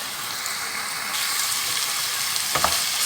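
Pepper paste is stirred in a pot with a soft, steady hiss and faint scraping, ending in a couple of brief clinks near the close.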